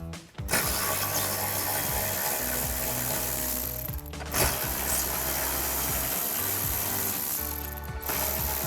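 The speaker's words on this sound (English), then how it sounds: "we're going to take those out with our ratchet and socket." A ratchet and socket back out small bolts on a 2016-2024 Camaro ZL1 rear diffuser, giving rapid clicking runs of several seconds each, close and clear, separated by short pauses.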